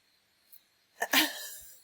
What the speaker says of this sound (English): excuse me, I'm gonna sneeze.